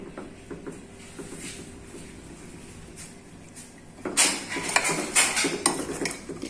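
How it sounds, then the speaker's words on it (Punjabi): After a quiet stretch, a ladle clatters and scrapes in an opened pressure cooker full of cooked black chickpeas, with repeated metallic knocks close by. "ਕੁੱਕਰ ਖੋਲ ਆਪਾਂ ਤੇ ਹੁਣ ਆਪਾਂ ਦੇਖ ਲਿਆ ਕੜਛੀ ਚ ਪਾ ਕੇ"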